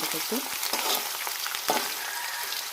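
Cut potatoes frying in oil in a pan, a steady loud sizzle throughout with a few scraping stirs near the start and middle, no talk.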